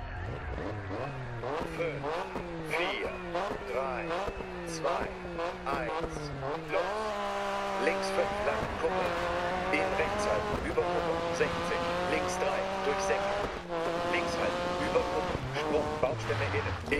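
A rally car engine in DiRT 4 on a snowy Swedish stage revs up and down through gear changes, loud and close throughout, with someone talking over it.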